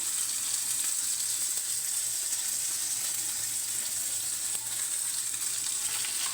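Fish fries in oil in a wok with a steady, even hiss of sizzling that holds unbroken throughout, close and fairly loud with no talking.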